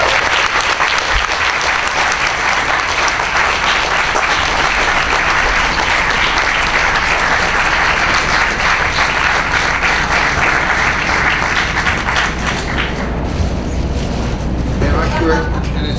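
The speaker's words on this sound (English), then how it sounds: "Please give a round of applause for Senator John McCain." A large audience gives sustained, loud applause for Senator John McCain, a dense roar of clapping continuing for many seconds before thinning toward the end as murmurs emerge.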